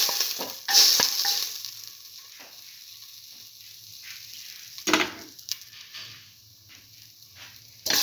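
Garlic frying in a pan as it is stirred, giving short bursts of sizzle and utensil scraping separated by near-silent gaps.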